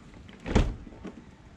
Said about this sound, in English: I'm going to open the door here.